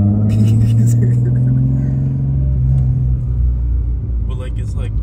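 A BMW E36 M3 engine rumbles low and steady from inside the car, which has a rear seat delete and cage, with brief voices talking over it.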